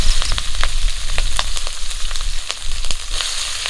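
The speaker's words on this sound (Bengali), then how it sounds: "গরম তেলে দিয়ে দেবো পাঁচফোড়ন আর তেজপাতা পেঁয়াজ কুচি কাঁচা লঙ্কা চিরা" Panch phoron, bay leaves, chopped onion and green chilli sizzle loudly in hot oil, a close, continuous fry broken by frequent sharp crackles and pops.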